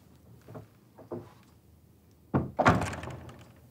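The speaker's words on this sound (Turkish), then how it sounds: "Kapatın kapıyı" A heavy door thuds shut in a palace setting of the Ottoman historical drama Magnificent Century, with a couple of soft footsteps or knocks before it and a loud close thunk with a brief rattle.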